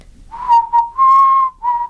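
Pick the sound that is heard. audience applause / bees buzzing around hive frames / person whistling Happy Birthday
person whistling Happy Birthday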